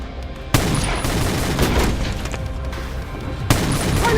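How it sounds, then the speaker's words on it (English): Gunfire from a Steven Seagal action film, Code of Honor: two sharp shot onsets stand out over a dense, sustained bed of loud booming gunfire and noise. "Shots fired! Shots fired!"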